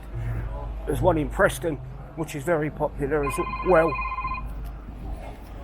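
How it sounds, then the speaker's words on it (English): A phone rings with a steady electronic tone sounding under a man's ongoing conversation, beginning partway through and lasting about a second. "That's my phone going again."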